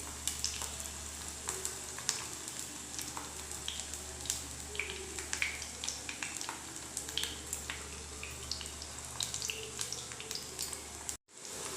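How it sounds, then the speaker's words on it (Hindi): Bottle gourd and pointed gourd pakoras frying in hot oil give a steady, close sizzle with dense crackling pops throughout, briefly cutting out near the end. "अब हम लौकी और परवल का पकौड़ा भी फ्राई कर लेंगे।"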